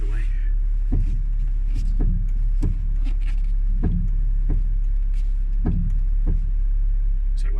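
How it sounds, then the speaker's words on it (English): A Renault Twingo's front suspension gives repeated dull clunks as the steering wheel is turned back and forth, about a dozen thuds spaced roughly half a second apart over a low steady hum. "So when I turn the wheel, it clunks."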